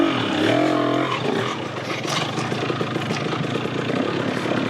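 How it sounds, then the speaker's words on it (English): Fighter jets pass overhead above a dirt bike trail in Arizona, a loud, broad, steady roar filling the air for several seconds, blended with the rumble of a two-stroke motorcycle engine. "A fighter jet? That's a fighter jet."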